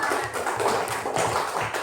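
Applause from a classroom of students after a group presentation, steady dense clapping filling the whole moment at moderate loudness with no talk over it.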